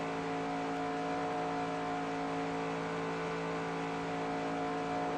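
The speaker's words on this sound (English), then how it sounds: "Let's see if we hear the engine start over-revving." Car engine held at high revs at speed during a world record attempt, a loud steady droning hum with constant pitch, close and continuous with no voices.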